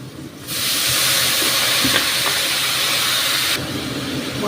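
Spice paste with chilli and turmeric powder sizzles loudly as water hits the hot pan, a sudden steady hiss of steam that holds for about three seconds before dropping back to a quieter simmer.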